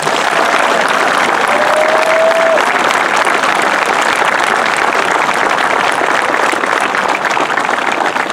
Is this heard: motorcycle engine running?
no